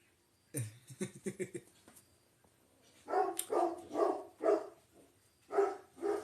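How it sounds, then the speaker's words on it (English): A dog barks in a rapid burst of several quick yaps, then after a pause lets out a series of louder, separate barks, picked up from a short distance in a quiet indoor room. "That's my dog."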